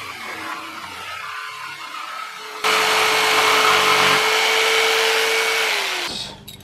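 Power tool cutting off part of a homemade no-waste quail feeder, a loud steady whine that jumps in level partway through, holds, then winds down near the end, with no talk over it.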